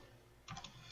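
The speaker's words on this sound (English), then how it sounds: "I'll just type it out instead." A few quick computer keyboard keystrokes, close and fairly quiet, clustered briefly over a low room hum while someone types out a value in CAD software during a hex cap screw tutorial.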